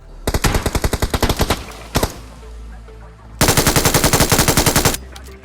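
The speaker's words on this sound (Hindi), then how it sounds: "अब ये पोट्टा मेरे ऊपर गोली चलाता है" Automatic gunfire from PUBG Mobile (BGMI): a rapid burst of loud shots, a lone shot, a short pause, then a second sustained burst of rapid fire, all close and with no talking.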